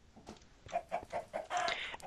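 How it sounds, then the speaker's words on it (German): Several chickens cluck in the video game Minecraft, a string of short clucks in steady succession at moderate volume with no talking. "Und ganz viele Hühner finde ich gerade."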